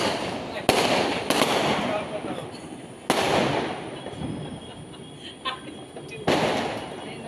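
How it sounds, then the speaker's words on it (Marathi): Firecrackers go off outdoors during a Laxmi puja celebration: four sharp, loud bangs spaced a few seconds apart, each followed by crackling and rumbling echoes, with faint voices in the background. "मग आपल्याला फटाके फोडायचे."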